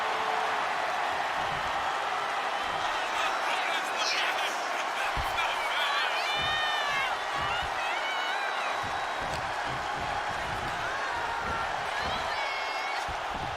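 Arena crowd in WWE 2K25 during a steel cage match, a steady roar of cheering that carries through the whole stretch with a few brief whoops rising above it.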